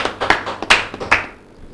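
A handful of separate hand claps, about five sharp and fairly close, sound from an audience welcoming poet Anuj Tyagi at a Holi celebration programme, then fade out.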